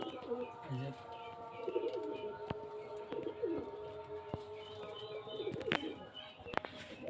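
Pigeons kept for sale in Murshidabad coo repeatedly in low, rolling bursts over a steady background hum, with faint human voices in the background.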